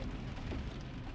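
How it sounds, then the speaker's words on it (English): Steady rain falling outdoors near a parked car, a dense, even hiss with low rumble that holds at a constant level throughout, with no voices. "It's raining."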